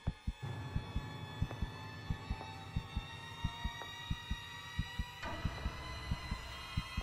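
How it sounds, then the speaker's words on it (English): A heartbeat in the horror video game Crimson Snow, a steady, slightly quick pulse of low thumps over an ominous droning hum, fairly quiet and without talk. "Heartbeat does not sound good."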